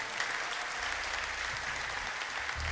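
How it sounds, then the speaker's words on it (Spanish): A church congregation applauds during a worship service, a steady, dense clapping from the room held at an even level for the whole stretch, with a low rumble underneath. "Dele ese aplauso a la presencia del Señor"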